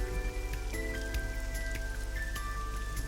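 Steady rain falls in the rainy city scene of the video game The Somnium Files, near a roof in the long-closed Bloom Park, a constant patter with soft drips under a sustained tonal music bed.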